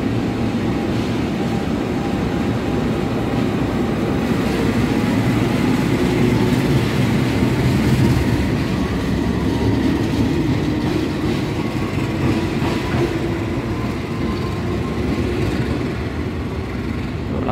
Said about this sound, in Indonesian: Pelangsiran lokomotif dinas kereta api Argo Sindoro.